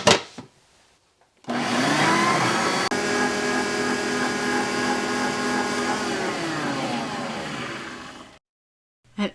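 An electric stand mixer with its lid on beats whoopie pie batter of sugar, vanilla and very cold water, starting abruptly and whirring at a loud, steady, motorized pitch for about seven seconds before cutting off.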